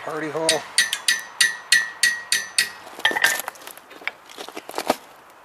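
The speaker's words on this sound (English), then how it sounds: "Punch that through with a punch all the way." Hammer blows drive a punch through a coin on an old anvil, about nine sharp, ringing metallic strikes in a steady rhythm, followed by lighter irregular clinks and taps.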